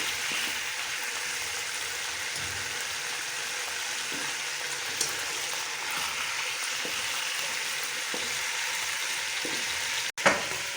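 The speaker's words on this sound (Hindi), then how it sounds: "इस तरह का हमने हल्का हल्का फ्राई करना है।" Chicken pieces frying lightly in oil for chicken korma, giving a continuous even sizzle with a few soft clicks and one sharp knock near the end. No one talks.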